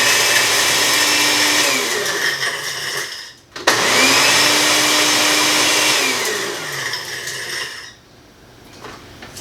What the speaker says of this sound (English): actually it's a smoothie maker, but it's got a chopper on it